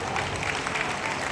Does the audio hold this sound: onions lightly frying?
no